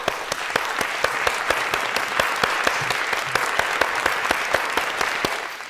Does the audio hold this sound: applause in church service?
yes